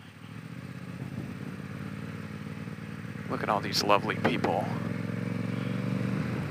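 A motorcycle engine drones steadily throughout, close and moderately loud, with a brief clattering rise partway through while someone talks over it.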